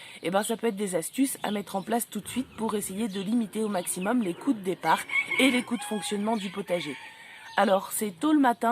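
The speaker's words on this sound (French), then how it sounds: "vous entendez les coqs qui chantent" Someone talks continuously while roosters crow faintly in the background, with occasional clucking behind his voice.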